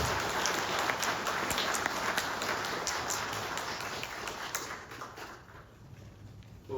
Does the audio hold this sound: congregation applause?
yes